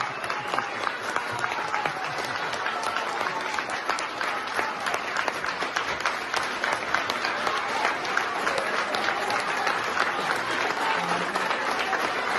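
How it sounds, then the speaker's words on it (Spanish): Sustained applause greets Supreme Court chief justice Norma Piña at Mexico's Supreme Court of Justice, a dense, steady crowd clapping that runs loud and unbroken throughout. "reciben a la ministra Piña entre aplausos"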